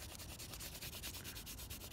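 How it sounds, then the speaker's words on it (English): The side of a pencil shading across paper in quick back-and-forth strokes, a soft, close, rhythmic scratchy rubbing repeated steadily. "I can very quickly shade in parts of it like that"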